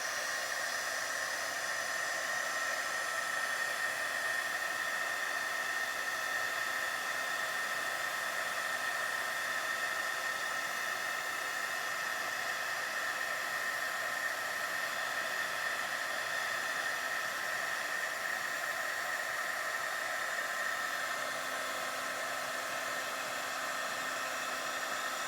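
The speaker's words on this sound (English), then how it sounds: "I'm going to just heat it up with the heat tool." An embossing heat tool blows hot air in a steady, even rush with a faint whine, running unbroken and fairly quiet for the whole stretch with no talk.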